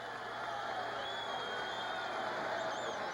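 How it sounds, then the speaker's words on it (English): A boxing crowd at the Cow Palace roars in a steady, dense wash of cheering as a championship light flyweight fight ends, with scattered whoops rising above the sustained noise. "Listen to the crowd."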